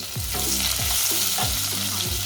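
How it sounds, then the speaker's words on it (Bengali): Whole cumin, bay leaves and chopped onion frying in a generous amount of oil, with a loud continuous sizzle and several rhythmic stirring strokes, close up and with no talking. "দিয়ে দিচ্ছি আস্ত জিরা, তেজপাতা এবং পেঁয়াজ কুচি।"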